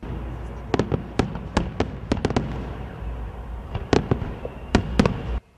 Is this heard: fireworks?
yes